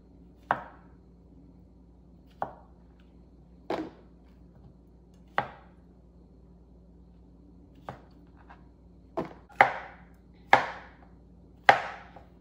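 A knife quarters baby bella mushrooms from a 16-ounce pack on a cutting board: about ten crisp, separate chops, sparse at first and then quicker and louder near the end, with no talking.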